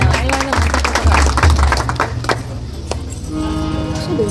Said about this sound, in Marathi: आपल्या त्या सैनिक बांधवांसाठी परत एकदा जोरदार आपण सर्वांनी टाळ्या वाजवा।